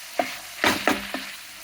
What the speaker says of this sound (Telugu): ఇది వేగాలండి. బాగా కొద్దిగా వేగి మెత్తగా అయిపోవాలి.